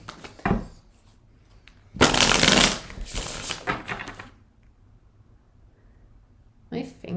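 A Tarot Royale card deck is shuffled in a few short riffling bursts, one longer loud flurry among quieter handling sounds, close to the microphone with talk nearby.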